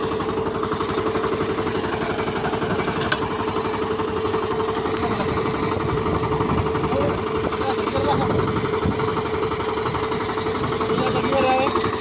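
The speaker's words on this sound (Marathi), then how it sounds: "हा चालू झालेला आहे मशीन" A VST Shakti power tiller engine runs steadily after starting, a continuous close mechanical drone with knocking pulse that holds at constant loudness throughout.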